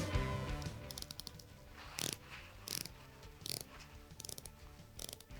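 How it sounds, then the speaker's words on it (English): The rotating bezel of a Tudor Pelagos FXD watch gives faint, crisp ratchet clicks in short clustered bursts about once a second, heard up close in a quiet room. "I was kind of bummed when I heard the bezel of this watch"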